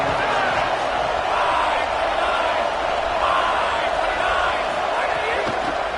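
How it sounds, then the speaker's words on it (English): A football stadium crowd roars steadily through a game, a broad continuous wash of cheering from a large distant mass of fans, with commentary over it. "This crowd ready to make its presence known."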